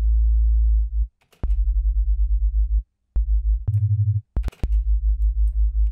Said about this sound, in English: I'm gonna get a bit of another sine wave going on.